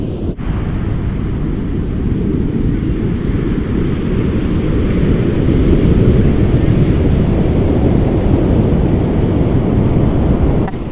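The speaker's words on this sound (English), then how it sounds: "You hear the waves?" Ocean waves breaking on a shore, a continuous broad roaring wash heard alone, with wind buffeting the microphone throughout.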